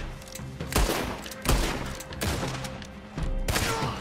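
Rapid bursts of gunfire from the Western shooter video game Red Dead Online, with several loud volleys at roughly regular intervals over steady background game sound.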